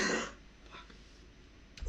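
A man clears his throat and coughs once near the mic, a short rough burst followed by quiet breathing and a small noise at the end.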